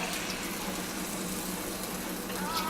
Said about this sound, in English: I'm gonna go ahead and pour in about a cup.